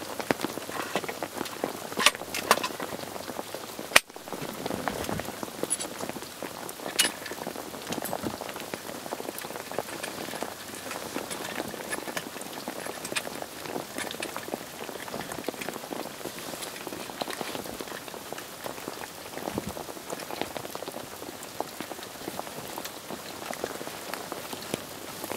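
Heavy rain pours steadily onto a surface, a dense, continuous patter of drops close by, with one sharp knock early on and no voices.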